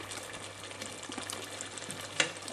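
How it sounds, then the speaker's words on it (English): Peppers cooking in a pot give a steady, soft bubbling and sizzling hiss with a brief louder pop near the end. No one speaks. "That's bubbling along nice."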